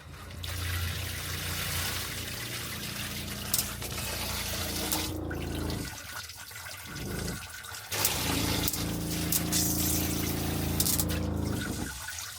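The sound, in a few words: shower water running through RV shower filter, hot side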